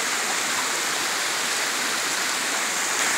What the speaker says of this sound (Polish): Woda cieknie.